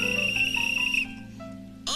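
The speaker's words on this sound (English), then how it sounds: "You blow a whistle," A whistle is blown in a children's pond scene, one sustained shrill tone for about a second, then quieter bubbly warbling sounds over a low background hum.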